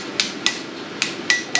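Five sharp, hard hammer strikes on a metal part of an LT1 engine during disassembly, spaced irregularly and close by, each a crisp metallic whack with no talking.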